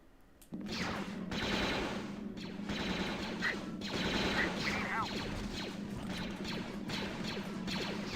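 Rapid automatic gunfire from a shooting video game rattles almost continuously after a short quiet start, loud and dense, with faint voices underneath.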